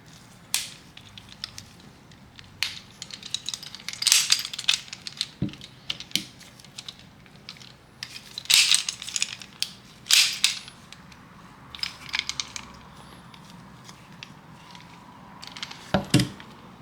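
Metal parts clicking and snapping as the slide stop latch is fitted on a new, stiff Kimber Rapide Dawn .45 ACP pistol, with scattered sharp clicks and rattles at close range and no talking.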